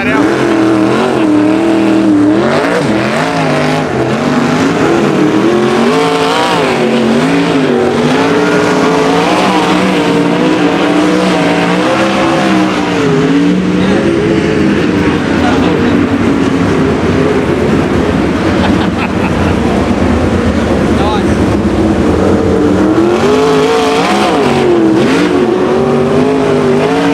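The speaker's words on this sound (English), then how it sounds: "That's a silly sprint car" Sprint cars roar loudly around a speedway dirt track, a continuous dense engine drone with rising and falling pitch as cars pass, steady and close throughout with faint voices underneath.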